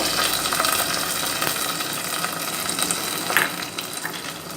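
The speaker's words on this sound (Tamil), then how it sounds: "தேங்காய் எண்ணெயில் கடுகு கருவேப்பிலை தாளிச்சாச்சு." Mustard seeds and curry leaves sizzling and crackling in hot coconut oil, a loud steady frying hiss with scattered pops, close by and without voices.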